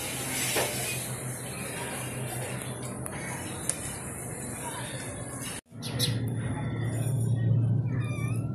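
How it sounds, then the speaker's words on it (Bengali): A cat eating on a rooftop garden, meowing amid outdoor ambience with birds chirping in the background and a brief break in the sound midway. "বিড়ালের খাওয়া দেখি আজকে"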